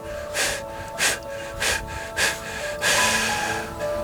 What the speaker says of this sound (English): On the next 7-part exhale,